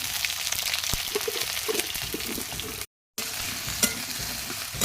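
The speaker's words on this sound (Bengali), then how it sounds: "তেলটা গরম হয়ে গেছে, আমি আলুগুলো দিয়ে দেবো।" Potatoes sizzle in hot oil in a wok, a steady close frying hiss with scattered crackles and stirring scrapes, briefly cutting out midway.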